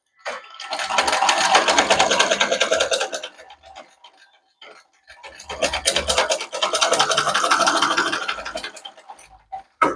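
Close, loud sewing machine stitching fabric in two long runs of rapid rhythmic needle chatter, separated by a brief quiet pause.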